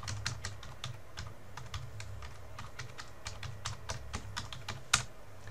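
Typing a user ID on a computer keyboard, a quiet run of rapid, uneven key clicks with one sharper tap near the end and a low steady hum underneath.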